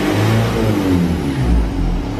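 A diesel engine swapped into a Toyota runs steadily with a low, even drone and slight rises in revs, fairly close and heard alone.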